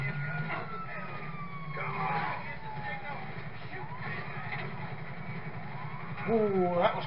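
A fire engine siren in the video game GTA V, wailing and sweeping up and down at moderate distance beneath a steady rumble of traffic and engine noise.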